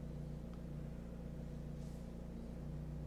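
A Vauxhall car engine idles steadily just after start-up, its glow plugs already switched off, giving a faint, even low hum and rumble throughout with no voices.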